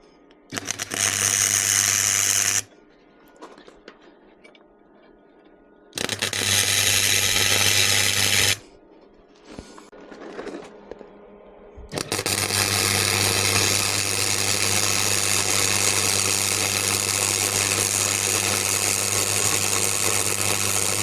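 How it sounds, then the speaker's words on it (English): A welder tacks a custom bobber seat bracket onto a Yamaha Dragstar motorcycle, producing three loud, steady buzzing bursts, two short and one long, separated by quieter gaps with faint clicks and handling noise. "I'm just going to tack it in, then I'll take it off the bike and then I'll weld it up properly."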